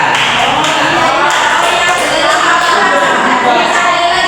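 A classroom of students claps together in a dense, steady wash of handclaps, loud and close, sustained for several seconds without a break.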